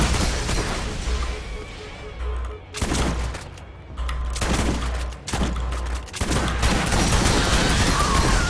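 Gunfire from the video game Borderlands in a PC speedrun, playing as Lilith: loud, dense bursts of shots come in several clusters separated by brief lulls, with booming impacts throughout and no voices.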